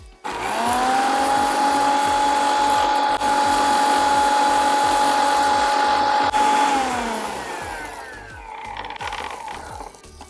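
Electric mixer grinder powdering spices for mango puliyodharai, a loud close steady motor whine running for several seconds before winding down as it is switched off.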